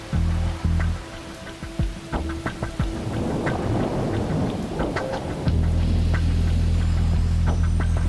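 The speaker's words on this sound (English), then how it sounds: "You have to stay out of that rain for 5 minutes." Heavy rain pours down steadily while thunder rumbles and cracks, with a deep continuous hum building toward the end, loud and close with no talking.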